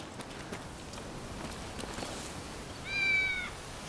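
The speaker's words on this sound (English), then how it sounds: "That is the cat, I think." A cat in the video game Rise of the Ronin gives a single short meow near the end, faint over a quiet ambient background with a few soft steps.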